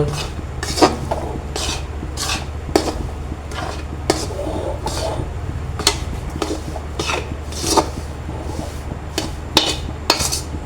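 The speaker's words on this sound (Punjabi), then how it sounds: "ਹੁਣ ਆਪਾਂ ਬੇਸਣ ਨੂੰ ਚੰਗੀ ਤਰ੍ਹਾਂ ਭੁੰਨਾਂਗੇ ਘਿਓ 'ਚ" Gram flour being roasted in ghee in a pan for besan panjiri, with repeated scraping and clinking of a utensil against the metal pan in an irregular rhythm, close and fairly loud over a steady low hum.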